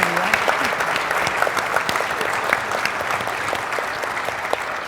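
A conference audience at a closing plenary stands and claps to honor the women in the room, producing dense, sustained applause that fills the space at an even level.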